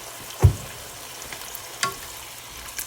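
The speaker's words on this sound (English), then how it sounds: "It's like 28 ounces of that Allen's Italian green beans. Tossing those in there." Canned Italian green beans land in a pan with bacon, giving one soft thump followed by a low steady sizzle and a brief later clatter, fairly quiet and close.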